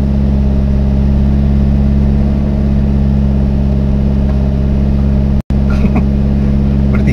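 All New Xenia 1.5 R CVT engine laboring under kick-down on a steep 17-degree uphill with three people aboard, a loud sustained low drone that holds steady throughout, broken by one brief dropout near the end.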